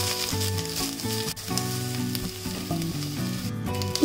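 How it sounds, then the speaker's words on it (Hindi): Eggplant pieces fry in hot refined oil, giving a steady, close sizzle that lasts throughout, with soft background music underneath. "तेल गरम हो गया, अब इसमें हम बैगन लाइट गोल्डन फ्राई कर लेंगे।"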